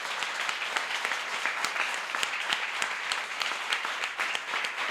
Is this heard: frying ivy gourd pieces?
no